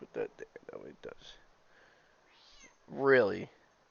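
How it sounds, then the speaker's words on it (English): A pet cat gives one loud, drawn-out meow near the end, close to the microphone, after several seconds of a person talking softly to it. "Are you a happy kitty right now?"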